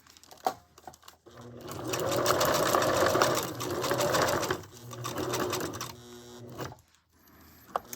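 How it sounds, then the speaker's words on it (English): A sewing machine stitches lace onto a glassine craft bag in two close, loud whirring bursts, the longer one first and a shorter one after a brief pause, with faint clicks and rustles around them. "So now I'm gonna go back and sew this."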